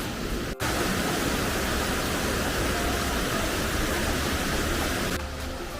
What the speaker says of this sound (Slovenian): Tole je pa poševni slap.